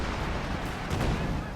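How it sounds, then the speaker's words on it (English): A 240mm howitzer barrage in Company of Heroes 2 produces a brief, muffled, distant boom that rises out of a steady, low battlefield rumble. "Now we do have the huge 240mm howitzers available. do a very massive but very RNG barrage."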